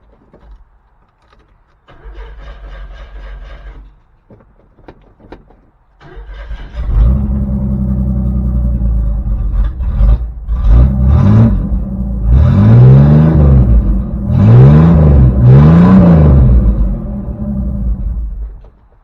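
A 1984 S10's engine cranks briefly, catches, and roars to life, then revs up and down several times in loud repeated surges, close by with no talking.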